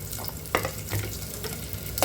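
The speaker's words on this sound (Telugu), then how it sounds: "ఇవి చక్కగా గోల్డెన్ కలర్లో వచ్చే వరకు మనం ఫ్రై చేసుకుందాము" Sliced onions and green chillies fry in oil in a pan for meal maker and tomato curry, a steady low sizzle broken by several spatula stirs and clinks, with no voices.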